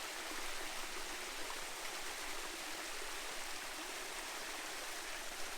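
A stream rushes steadily over rocks at a waterfall in Far North Queensland, a dense, continuous broadband wash of flowing water, moderately loud and close, with no voices.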